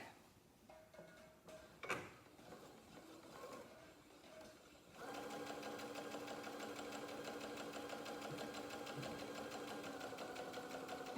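Sewing machine stitching a quarter-inch quilt seam on octagon layer cake pieces: after quiet handling noises, a steady rapid mechanical whir and tick starts partway through and runs continuously to the end, close and moderately loud.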